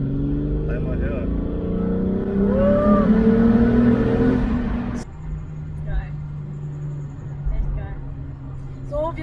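A VW Golf 4 Cabrio with a turbocharged VR6 engine revs loudly up close, rising for several seconds before cutting back to idle; people talk over it.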